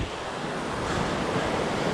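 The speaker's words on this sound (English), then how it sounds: "This is Pine Creek." Steady rushing water of Pine Creek in a Pennsylvania canyon, a broad continuous wash of flowing noise, close and even, with no voices.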